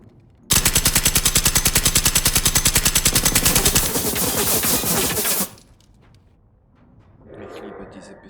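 Rapid automatic gunfire in the video game Generation Zero, a dense loud burst of evenly spaced shots lasting about five seconds, then a quieter stretch with faint background sounds.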